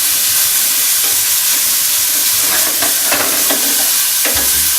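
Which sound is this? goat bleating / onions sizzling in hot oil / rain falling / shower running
onions sizzling in hot oil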